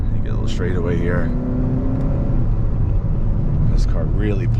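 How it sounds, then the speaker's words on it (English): Close, steady rumble of a Hyundai Sonata N Line with its 2.5 turbo engine pulling under acceleration, with someone talking over the drone throughout. "This car really pulls hard."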